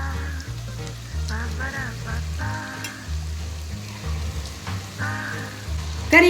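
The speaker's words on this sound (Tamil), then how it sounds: "கறியை போட்டிருக்கேன். நல்லா வதக்கிடணும்." Chicken pieces sizzle and fry in a pan while being sautéed for a chicken gravy, a soft steady crackle running under an ongoing voice.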